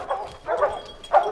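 Hunting dogs barking and yipping at a bobcat treed on a steep slope, three short bursts of excited baying at moderate distance with gaps between.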